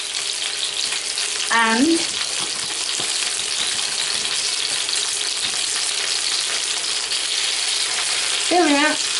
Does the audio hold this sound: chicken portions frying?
yes